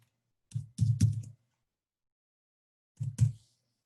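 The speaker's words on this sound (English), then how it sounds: "I guess he's typing it." Two short bursts of computer keyboard typing, a quick cluster of clicks, then silence, then a few more taps.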